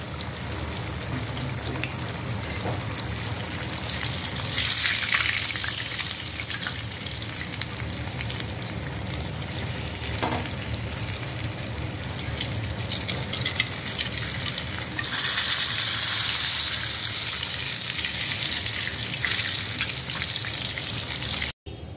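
Fish fries in hot oil with a continuous crackling sizzle, close and steady throughout, swelling louder at times, with occasional stirring clinks.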